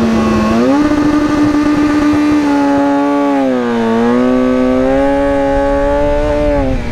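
A motorcycle engine fires up and revs loud and close, its pitch rising after the start, dipping, then climbing again across several seconds with no speech.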